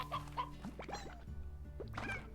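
Chickens clucking in the video game Slime Rancher, several short, clipped clucks and squawks scattered over a steady tonal game background.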